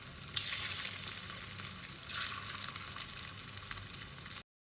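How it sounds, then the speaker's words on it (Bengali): Fish pieces fry in hot oil until golden brown for a chilli fish dish, giving a steady, dense sizzle with slight swells in intensity, heard close and alone without any talk. "মাছগুলো ভেজে নেব, হালকা গোল্ডেন ব্রাউন করবে"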